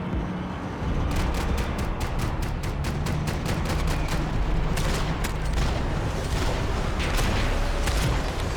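Rapid gunfire in the Max Payne 3 shooter game rings out as a steady run of sharp shots over a dense, noisy battle bed, loud and continuous through the scene.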